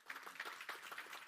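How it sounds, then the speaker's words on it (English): Audience applause in a church, very faint and distant, a brief patter of scattered clapping with no talk over it. "I don't know who started that clap"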